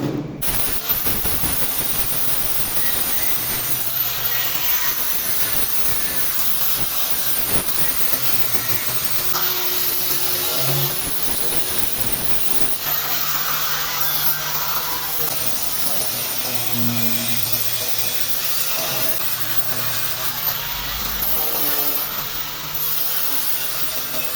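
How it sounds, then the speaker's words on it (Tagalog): A flap disc smooths welds on a metal guard for a coconut machine, making a continuous harsh grinding hiss with shifting pitch throughout. "After nyan, gagamitan ko na yan ng flap disc para pampakinis."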